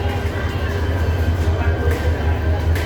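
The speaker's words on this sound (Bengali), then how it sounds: "পাহাড়িয়া এক্সপ্রেস চট্টগ্রাম থেকে আসছে, এটা এখন সিলেট যাবে।" The Paharika Express passenger train, arriving from Chattogram and bound for Sylhet, rumbles steadily at a railway junction station, a loud continuous low drone with a faint metallic hum above it.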